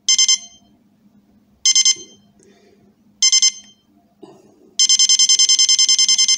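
Sharp SPC100D silver digital dual alarm clock sounding its alarm in short loud electronic beep bursts separated by pauses, then a faster continuous run of rapid beeps, close and alone apart from faint background noise.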